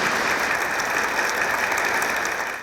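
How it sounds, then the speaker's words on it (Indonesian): Audience at a talk show applauds a pastor, a loud, dense and continuous burst of many hands clapping close by that fades slightly at the end, with no speech over it. "tepuk tangan dulu untuk Pak Pendeta"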